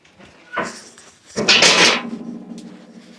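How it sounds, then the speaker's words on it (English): A wood stove door swings shut with a metallic clunk and rattle, preceded by a lighter scrape, close and fairly loud, then a fading low rumble. "It will when I close the door"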